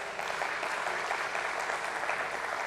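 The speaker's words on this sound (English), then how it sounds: "Can we have a round of applause?" Audience applause at a stock exchange listing ceremony for a company's equity shares, a steady wash of many hands clapping with no break.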